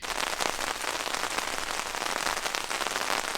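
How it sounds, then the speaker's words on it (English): Heavy rain pounds steadily on a Klymit Maxfield 2 tent at night, a dense, continuous close patter with no let-up and no voices. "rain has come in. It's coming down pretty good."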